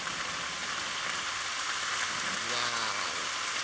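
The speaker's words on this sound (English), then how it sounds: "lot of rain coming." Steady, dense rain falls as a thunderstorm moves into Plattsburgh, New York, a continuous hiss with no breaks and a brief faint tonal sound partway through.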